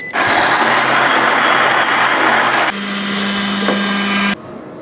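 An xBloom drip-coffee capsule machine grinds coffee beans with a loud, steady whirring burr grind that drops to a lower, steadier hum midway before cutting off abruptly, leaving quiet.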